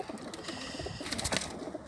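Pigeons coo softly inside a pigeon loft, a low murmuring of several birds with light rustling and no voices.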